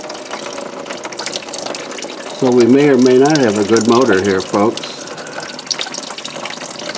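Water pours and gurgles out of a burnt 1955 Buick engine, a steady splashing flow under a voice, with a louder tonal gurgling burst in the middle as the liquid drains.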